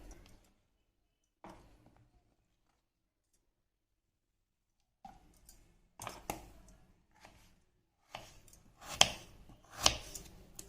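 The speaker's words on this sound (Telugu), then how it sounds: "అడ్డంగా కట్ చేయొద్దండి, ఇలా నిలువుగానే కట్ చేసుకోండి." Knife slicing potatoes lengthwise into thin pieces on a board, sparse soft chops at first, then quicker, louder cuts clustering toward the end, close and with no voices.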